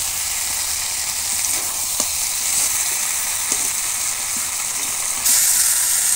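Chicken curry with Malabar spinach sizzles steadily in an uncovered pan as it is sautéed, a continuous close frying hiss with a few soft stirring knocks and a brief louder burst near the end.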